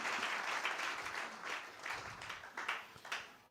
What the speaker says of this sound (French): Acclamez très fort le roi des rois.